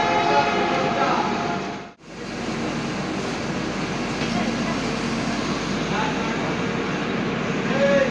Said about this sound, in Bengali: কামারকুণ্ডু থেকে আমাদের ট্রেন ছেড়ে দিল।